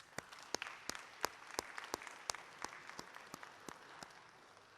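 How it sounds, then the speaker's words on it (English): Sparse, fairly faint applause from an audience at a high school football awards ceremony, individual sharp claps standing out distinctly over a soft background of clapping. "Let's give Dr. Williams a nice round of applause."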